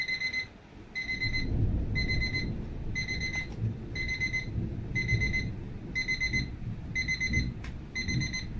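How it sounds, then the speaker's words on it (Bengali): An electronic alarm clock rings with a steady run of about nine evenly spaced bright beeping bursts, close and clear over a faint background rumble. "অ্যালার্ম সুইচটা অন করলাম, এবারে অ্যালার্মের এবার টাইমটা মিল করছি, দেখুন 12টায় অ্যালার্ম বাজবে।"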